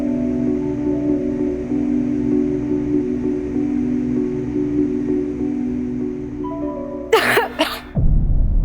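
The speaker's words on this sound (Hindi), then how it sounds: "नहीं तो दिन भर ऐसे ही खांसती रहोगी" A woman coughs a couple of times in quick succession near the end, breaking through a steady low indoor hum.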